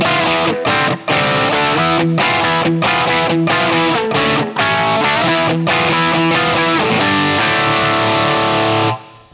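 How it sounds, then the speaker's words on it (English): Heavily distorted Marshall-style amp tone from the Overloud TH-U plugin, with a touch of room ambience, chugs through loud rhythmic chords with short choppy breaks before a sustained final chord cuts off. "It's a great Marshall sound with that little bit of room"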